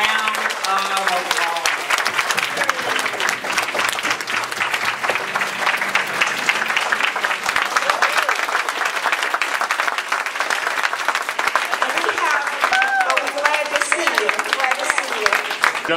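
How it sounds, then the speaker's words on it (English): At a chaplain appreciation banquet at a VA medical center, an audience gives long, sustained applause for the chaplains. The steady clapping runs the whole time, and voices and cheering can be heard within it. "let's all give our chaplains the largest round of applause"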